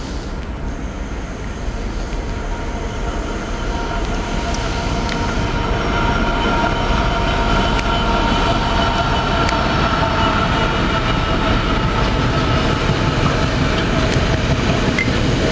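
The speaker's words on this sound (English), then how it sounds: "Freightliner coal coming over the top." A Freightliner coal freight train passes close by, a loud sustained rumble of wagons and rolling wheels with rhythmic rail clatter and faint squeals throughout, no voices.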